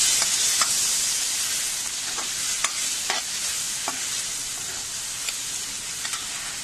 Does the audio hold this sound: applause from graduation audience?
no